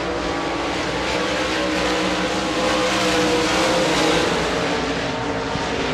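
Modified race cars roar through the final lap at Devils Bowl Speedway, a dense, loud, continuous engine drone with steady pitch and no talk over it.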